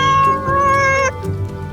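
One cat meows in a single drawn-out, loud and close call of about a second, with a falling tail, then fades, with no talking over it. It sits within a children's farm-animal picture-book reading.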